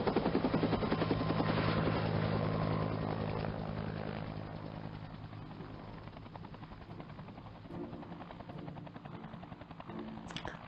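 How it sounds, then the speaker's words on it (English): A helicopter flies steadily over the whole stretch, its heavy rotor drone and engine whine loud and continuous, easing slightly quieter toward the end. "No, he took Crossbone's chopper."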